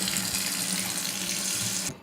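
Water runs from a tap into a bathroom sink and its supply lines during a leak test after fitting an angle stop, P-trap and pop-up drain, a steady close rush and splash that stops abruptly near the end.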